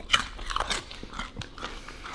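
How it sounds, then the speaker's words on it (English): Raw garlic is bitten and chewed up close, giving several sharp, wet crunches in an uneven rhythm with no voices. "let's hear the crunch."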